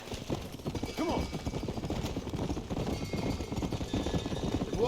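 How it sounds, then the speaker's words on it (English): A horse gallops fast in the Red Dead Redemption video game, its rapid hoofbeats drumming close and loud throughout, with brief snorts over a busy backdrop. "My horse is hauling ass."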